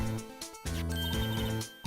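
A phone rings in the Ace Attorney video game, a short electronic ringtone with repeating tonal bursts heard close and clear.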